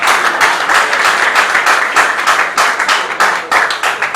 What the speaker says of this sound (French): Est-ce qu'on peut acclamer très fort pour la gloire de notre Seigneur Jésus?